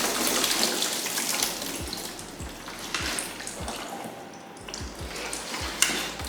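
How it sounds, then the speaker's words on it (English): Water sloshes and splashes in a car radiator during a coolant flush in an LS-swapped Genesis Coupe, with a steady rushing wash and repeated low thumps close by. "we'll do a coolant flush anyhow. Slosh it around."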